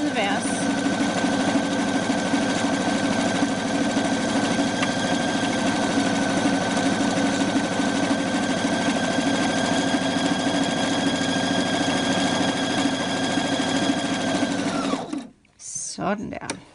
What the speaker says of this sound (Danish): Og så skal jeg sy efter min streg med min pyntesøm